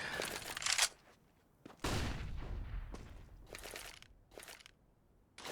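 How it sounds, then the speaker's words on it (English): A stack of grenades goes off in a Counter-Strike: Global Offensive match, heard as several sharp, crunchy blasts and bursts of gunfire with short quiet gaps between them. "3 of them move up towards tunnels and get met with a nade stack"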